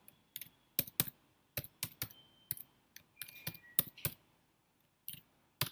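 Typing on a computer keyboard while entering an integer value during Python coding: close, crisp key clicks in irregular bursts with short pauses, no talking.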